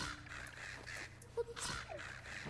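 Crows cawing in the game Zelda: Echoes of Wisdom, a few short harsh calls popping out over a steady hum of game ambience and music.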